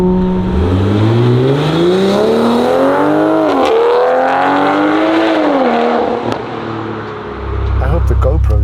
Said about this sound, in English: This car is so incredibly alive, and it's burbling like crazy.